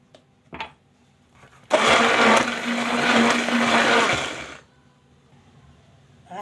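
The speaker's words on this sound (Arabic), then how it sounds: "حنا كنخلطو عير كيولي اللون ديالو بيض ومرغوي" An electric mixer whirs loudly and steadily for about three seconds while beating eggs and sugar for a vanilla cake batter, with faint clicks before and after.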